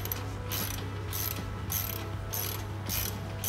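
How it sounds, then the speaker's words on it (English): An 8 mm socket wrench ratchets metric bolts on a 210A welder's generator outlet, giving a steady run of quick, close metallic clicks in regular bursts. "Just a little 8 millimeter socket wrench will do the trick."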